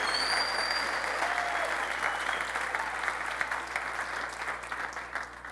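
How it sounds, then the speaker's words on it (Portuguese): Church congregation at a family service in Florianópolis applauding visitors, a dense, continuous round of clapping from a crowd indoors that gradually thins toward the end. "Receba nossos visitantes com uma salva de palmas."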